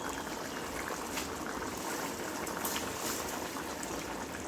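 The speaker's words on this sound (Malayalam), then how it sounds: "ഇത് ഞാൻ ഗ്യാസ് ഓഫ് ചെയ്തിട്ടും തിളയ്ക്കുന്നത് ചട്ടിയുടെ ചൂട് കിട്ടോ, അതുകൊണ്ടാണ്." Fish curry bubbles steadily in a clay pot after the gas is switched off, a dense, close, continuous simmering fizz with no talking.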